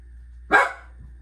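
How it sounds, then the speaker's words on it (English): One short, sharp dog bark, close and clear, against a quiet background. "That's Blaze now barking"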